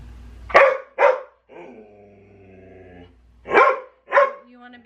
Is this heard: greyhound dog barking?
yes